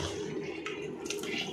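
Cloudy, starchy water from rinsing sliced potatoes for homemade chips is poured out of a bowl, a continuous close splashing gush with brief sloshing bursts.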